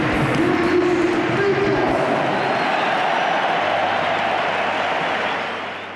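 Stadium crowd applauding Luis Figo as he is honoured with the Ballon d'Or, Di Stefano and Eusebio among those in the stands; a loud, steady wash of clapping and crowd noise that carries on throughout and eases off at the very end.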